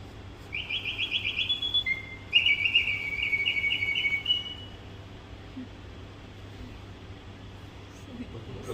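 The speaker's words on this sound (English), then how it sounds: "So musical box, but this is we say singing bird." A mechanical singing bird music box automaton chirps in bright, rapid whistled trills, two bursts of warbling song over a quiet hum, then falls silent.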